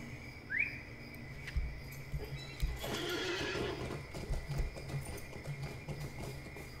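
Horse in the Lord of the Rings Online game gives a clear rising whinny early on, followed by a steady run of clip-clopping hooves and a brief noisy burst midway, with no talking.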